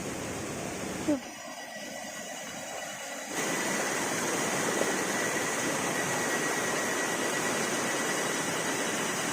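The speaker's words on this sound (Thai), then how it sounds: "แกนอนฟังเสียงน้ำไหลเนาะ" A mountain stream at Mae Klang Luang in the Chiang Mai hills rushes in a steady, hissing flow, quieter at first and then swelling louder and fuller for the rest of the clip.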